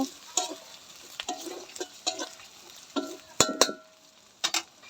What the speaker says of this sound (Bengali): এই যে আদা দিচ্ছি এবার একটু কষিয়ে নিব